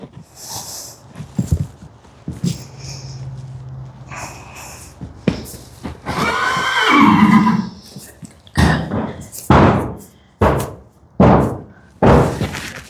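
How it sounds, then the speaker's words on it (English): Another horse bangs on the wall of a stable, a series of loud, sharp knocks and thuds spaced through the clip, with horse snorts and whinny-like noises in between and no talking. "another horse banging on the wall, trying to get in at that moment"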